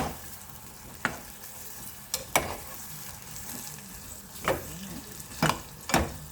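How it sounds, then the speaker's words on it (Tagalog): Okra being stirred in a pan for Filipino adobong okra, with a few separate scraping knocks of the utensil over a faint sizzle, spaced irregularly and heard alone. "Tapos ihalo lang natin yung okra"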